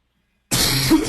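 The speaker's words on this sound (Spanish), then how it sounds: "me dio un poco de tos" A single sharp cough from a presenter during a technical workshop, bursting abruptly out of silence, close and loud, with a short throaty tail.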